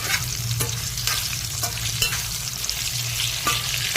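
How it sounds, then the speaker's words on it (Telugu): Bitter gourd frying in oil in a pan, a steady close sizzle with intermittent scraping clicks of stirring throughout. "కొంచెం సేపు వేయించుకున్నాం"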